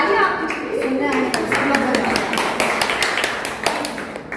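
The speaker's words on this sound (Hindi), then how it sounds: "ताली चाहिए।" A Hindi-language poetry gathering with women poets in Mumbai: the audience claps steadily for several seconds, a dense patter of hand claps that stays fairly even throughout, with some voices mixed in.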